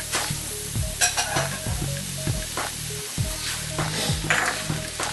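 Soy sauce sizzles hard in a hot pan of vegetables and marinated flank steak for pancit, a close, steady hiss broken by scraping stirs and clatters of the utensil.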